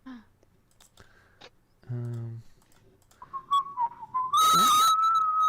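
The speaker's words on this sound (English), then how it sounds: "No whistling." A person whistles a sustained, wavering tone that rises to a loud, shrill peak near the end, after scattered clicks and a brief buzzing tone, with no talking.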